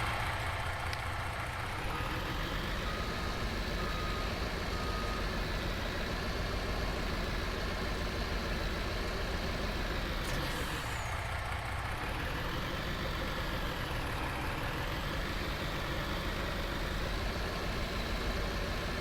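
The diesel engine of a MAN hook lift farm truck rumbles at idle, loud, steady and close, with a deep continuous drone and a slight shift in tone partway through.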